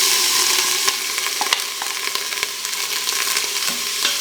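Onions and ham sauté in a hot Instant Pot with a steady, close sizzle, broken by sharp scrapes and taps of a utensil stirring the pot.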